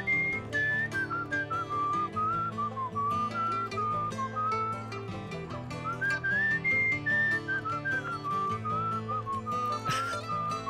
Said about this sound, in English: Whistling. Who'd have thought?